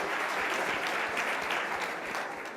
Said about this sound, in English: So, yes, you can clap.